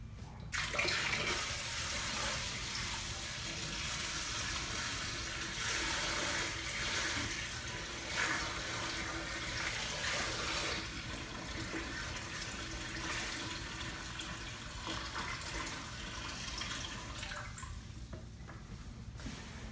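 Water gushes steadily into a JBJ Cubey 15-gallon aquarium tank, a loud continuous rushing splash that holds for about twenty seconds before easing slightly near the end.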